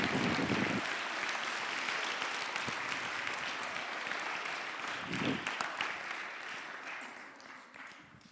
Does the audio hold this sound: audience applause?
yes